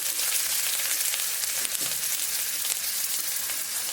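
Onion paste and garlic paste fry in a pan for a cauliflower and potato curry, a dense continuous sizzle with an occasional faint stir, close and steady with no voices.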